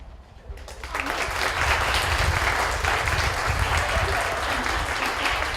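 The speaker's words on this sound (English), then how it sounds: "We love to hang around for the applause." Applause and crowd noise after a dog agility run at a county 4H fair; clapping swells in after a quiet start and holds steady and loud, with a low rumble of the crowd underneath.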